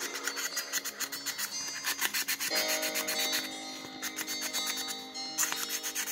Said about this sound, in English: So you don't want to sand the outside corner, but you can sand the inside corner.